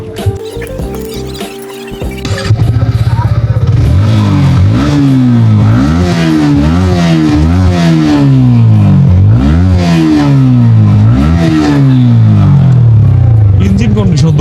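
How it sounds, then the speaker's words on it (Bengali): A used motorcycle is started after some soft clatter and voices, then its engine is revved repeatedly in loud rising and falling surges. "এখন আমি বাইকটা স্টার্ট দেবো, দেন একটু ড্রাইভ করে দেখবো"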